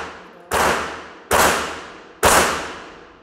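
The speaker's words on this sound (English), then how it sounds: "We are on the range, so excuse the range fire." Three sharp, loud gunshots from other shooters ring out at an outdoor shooting range, evenly spaced about a second apart, each with a long echoing decay.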